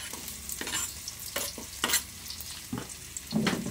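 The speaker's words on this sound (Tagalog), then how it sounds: "Pancit canton to guys, ang ating ginigisa." Garlic and onion sizzle in hot oil while being stirred for pancit canton, with several scraping spatula strokes in an uneven rhythm over a soft, constant frying hiss.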